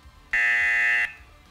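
A quiz-show buzzer sounds once as a single loud, steady electronic tone lasting under a second, with no other sound around it.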